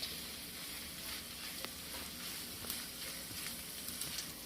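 Dried herbs sizzle in hot olive oil as they are stirred in a pan, a soft, steady frying hiss with faint scraping clicks and no talking.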